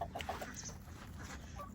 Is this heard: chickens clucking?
yes